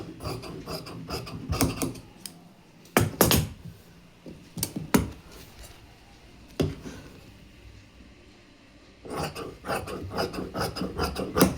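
Scissors cut through the front panel of blouse fabric, making a raspy, rubbing snip that comes in close, dense bursts with short pauses between them; no one speaks.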